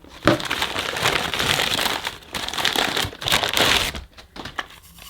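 Paper wrapping crinkles and rustles close up as a Henry Quick mini motorised tool is unwrapped, bursts of dense crackling with brief pauses between handling.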